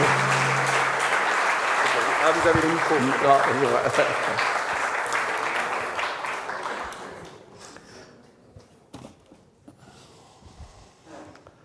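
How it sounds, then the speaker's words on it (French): An audience at an astronomy conference applauds loudly and densely for several seconds. The clapping then thins out and fades as someone speaks briefly over scattered last claps. "On peut l'applaudir, vraiment, c'est super pour nous."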